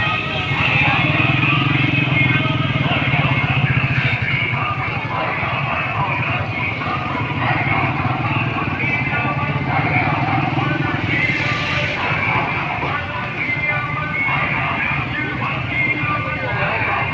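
A motorcycle engine drones loudly and continuously through an outdoor Milad Mustafa religious procession in Renala Khurd, Okara, Pakistan, mixed with crowd noise while people talk throughout.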